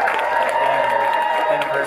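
Concert audience at the House of Blues in Dallas clapping and cheering steadily after a performance, a dense continuous wash of applause filling the room with crowd noise throughout.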